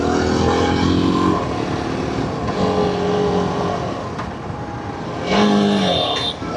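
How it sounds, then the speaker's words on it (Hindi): A Yezdi Adventure motorcycle (2025 model) runs under engine braking on the road, a steady loud engine drone with wind noise that holds throughout and swells slightly near the end, with no talk. "अभी मैं चेक करने वाला हूँ कि जब हम इंजन ब्रेकिंग करते हैं तो वाइब्रेशन आती हैं"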